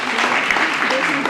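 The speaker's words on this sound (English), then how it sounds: "Big applause again and congratulations." An audience in a theatre hall at a startup pitch event applauds continuously, a full, close wash of clapping with a voice faintly audible beneath it.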